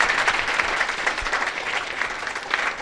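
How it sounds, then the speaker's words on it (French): Audience applause fills a hall at a literary and arts talk show in Burkina Faso, steady dense clapping held at an even level throughout with no voices over it. "Je vous demande d'applaudir s'il vous plaît."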